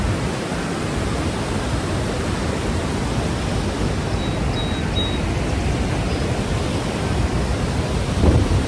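Water rushes steadily at a large waterfall in New York, a dense, unbroken roar filling the air close by with no pauses.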